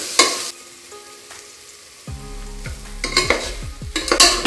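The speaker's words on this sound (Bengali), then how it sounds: "রাজমাটা কিন্তু দিয়ে দিয়েছি মশলার সাথে আর কষিয়ে নিচ্ছি" Kidney beans stir-fried with spices in a pan for Punjabi-style rajma, with scraping stirs and a steady sizzle, plus a few sharper clinks of utensil against pan toward the end.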